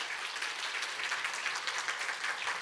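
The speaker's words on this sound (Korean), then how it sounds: "박수 한번 보내시기 바랍니다." Warm, steady applause from a church congregation during a Sunday worship service, a brief even wash of many hands clapping with no voices over it.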